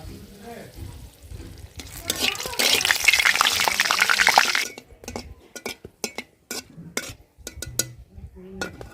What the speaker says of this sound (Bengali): তেল গরম হয়ে গেছে, এখন দিয়ে দেব শুকনা মরিচ, তেজপাতা